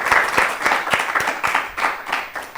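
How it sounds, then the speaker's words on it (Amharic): Studio audience clapping for contestant Fikirte on a children's TV quiz show, a steady burst of applause with sharp hand claps carrying through the full stretch, no voices over it. "እሺ አጨብጭቡላት ለፍቅርተ አጨብጭቡላት።"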